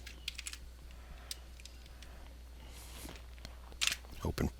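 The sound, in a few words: typing code on a computer keyboard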